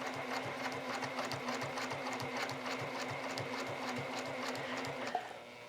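Sewing machine running steadily during free motion quilting with a ruler foot, a fast even mechanical chatter that continues throughout, then briefly slows near the end.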